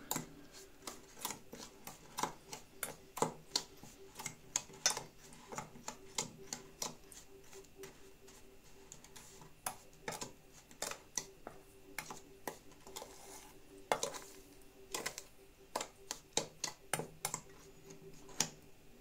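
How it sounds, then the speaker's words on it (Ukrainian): A spoon stirs cocoa batter in a bowl, making a quiet, irregular stream of sharp ticks and clicks against the dish, close and isolated without talk. "чи хватить, зараз розмішаємо."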